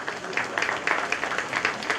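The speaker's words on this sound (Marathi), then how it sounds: "तर एकदा स्वप्नील सरांसाठी जोरदार टाळ्या झाल्या पाहिजे प्लीज." An audience at a community felicitation ceremony applauds, a steady wash of clapping that holds for the whole moment.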